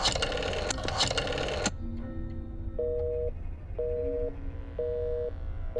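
Telephone busy signal in the video game Black Mirror 2: a burst of noisy clatter at the start, then repeated short, evenly spaced beeping tones on the line, with a faint lower hum between them.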